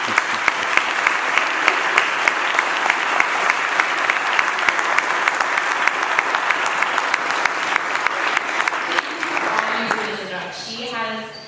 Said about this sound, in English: We would just like to have some clapping for her